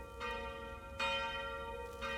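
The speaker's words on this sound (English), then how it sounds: "Gonna ring the church bell." A church bell rung in a video game, three resonant strikes spaced about a second apart, each leaving a long humming ring, fairly quiet and with no talk over it.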